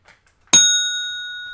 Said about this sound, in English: Damn, that's a bell ring.